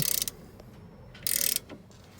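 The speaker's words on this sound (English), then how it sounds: "take out the 2 15mm bolts, one at the bottom and one at the top" A ratchet turns 15mm bolts out of a car's rear suspension in two quick bursts of rapid clicking, close and crisp, with a faint knock between them.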